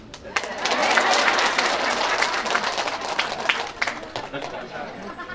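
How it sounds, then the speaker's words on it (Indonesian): Applause from a crowd of posyandu health volunteer mothers at a community gathering in Dumai, a dense steady patter of many hands that fills the clip at close range, with some chatter mixed in. "Ada nggak tepuk tangan."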